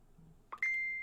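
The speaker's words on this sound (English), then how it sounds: "Apologies for the phone sounds." A brief electronic notification chime from a phone, a short two-part tone ending in a sustained clear beep, fairly close and loud against a quiet room.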